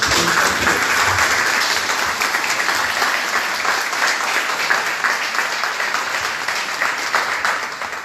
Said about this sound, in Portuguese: nosso querido eterno professor Romeu Sasaki, eu gostaria de pedir uma salva de palmas